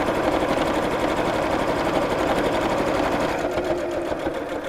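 Close, loud and continuous whirring of a sewing machine top stitching the flap of a crossbody bag with contrast thread, running steadily without pause and easing slightly near the end.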